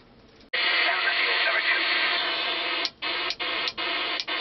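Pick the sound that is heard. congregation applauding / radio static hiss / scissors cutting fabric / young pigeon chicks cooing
radio static hiss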